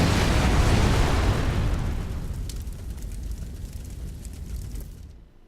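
A loud explosion in a video game erupts at once into a broad, roaring blast that holds for about two seconds, then fades into a crackling, rumbling decay before cutting off abruptly.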